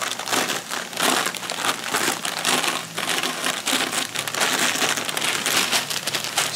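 Doritos are crushed inside a nearly closed bag, giving a continuous close, loud crinkling and crackling of plastic and chips in uneven bursts, with no voices.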